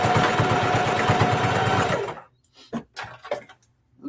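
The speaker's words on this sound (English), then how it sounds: "I'm going to sew across and then go all the way down and come all the way back up" A sewing machine stitches across a fabric handbag in a fast, even mechanical chatter for about two seconds, then stops. Quiet handling noises follow.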